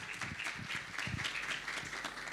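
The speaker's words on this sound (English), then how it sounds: "Let's applaud Professor Daniela RUS." Audience applauding Professor Daniela Rus at a conference opening panel, steady close clapping from many hands that fills the whole stretch without a break.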